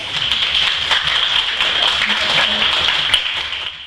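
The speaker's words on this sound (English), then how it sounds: "Let's give them a hand of applause." An audience at a debate applauds with a dense, steady patter of clapping hands that holds strong throughout, a few sharper claps standing out.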